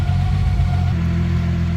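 A warmed-up 1994 Nissan Skyline engine runs steadily close up, a low even idle hum with a faint whine above it and no talking.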